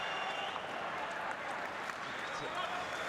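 A home crowd at a USA versus Finland ice hockey game applauds and cheers in a steady, dense roar that sounds distant and fairly faint, with commentary voices audible beneath it.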